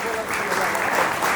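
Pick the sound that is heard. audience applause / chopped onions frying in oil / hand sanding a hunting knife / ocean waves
audience applause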